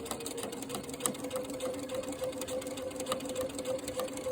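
A sewing machine stitches quilt binding at a steady, even pace, a continuous close whirring hum with a regular rapid needle rhythm and no talking.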